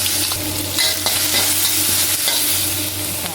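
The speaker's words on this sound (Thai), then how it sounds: "น้ำพริกไปผัดนะคะทุกคน" Loud, steady sizzling of chili paste frying in hot oil, with scraping and stirring strokes of a spatula against a wok throughout.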